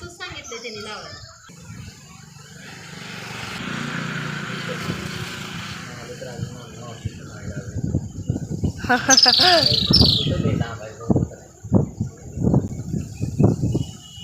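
A sparrow perched at its nest gives a brief burst of high chirps amid outdoor ambience, while voices talk nearby for much of the time.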